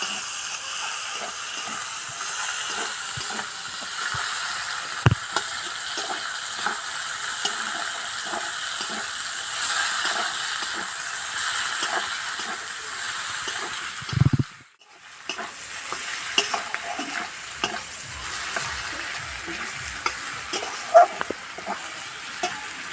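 Chopped onions with green chillies fry in hot oil in a pan for a Bengali jackfruit and prawn curry. A steady close sizzle runs throughout with repeated scraping stirs, one brief pause near the middle, and no talking.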